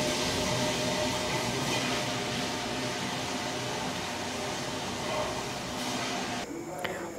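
Soaked raw rice and urad dal being ground into batter in a wet grinder, a steady, loud whirring and churning drone that runs unbroken throughout.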